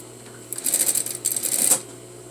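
Sewing machine back tacking a half-inch shoulder seam on a garment, a short whirring run of rapid stitching in two quick bursts, close and moderately loud, with a brief pause between.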